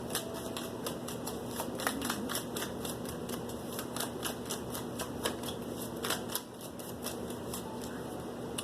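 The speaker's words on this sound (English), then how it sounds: "I just want to go ahead and give this another shuffle" Tarot cards being riffled and shuffled by hand in a quick, rapid run of crisp flutters and clicks, close and moderately soft, with a short pause near the end and no speech.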